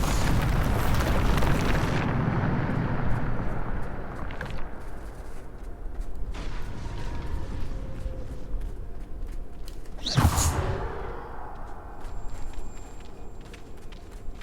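A Bombarda spell explosion in the Hogwarts Legacy video game: a sustained roaring blast at the start gives way to a rumbling game backdrop, then a second sharp burst lands around the ten-second mark.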